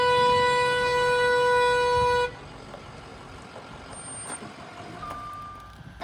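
An arriving bus that has just been repaired sounds a loud, sustained tonal horn or alarm for about two seconds, then cuts off, leaving quieter outdoor ambience with a few faint distant tones.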